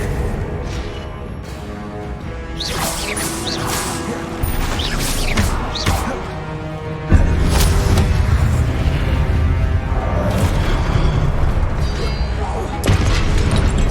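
Repeated Confringo spell explosions in the Hogwarts Legacy video game, heard as several loud booms and crashes over continuous rumbling battle noise, with sharp impacts scattered throughout.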